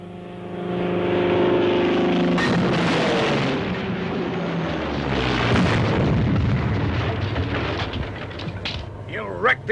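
A large explosion as a crashing plane wrecks a base, a loud, rumbling, sustained blast with crackling debris that swells and rolls on for several seconds before tailing off, with a voice briefly heard.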